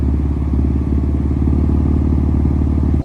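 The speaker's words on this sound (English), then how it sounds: "a short clip of what the exhaust sounded like after the cold start" BMW M4 exhaust just after a cold start, a loud, steady low idle burble that pulses evenly and stays close and unbroken for about three seconds.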